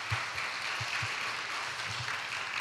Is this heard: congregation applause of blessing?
yes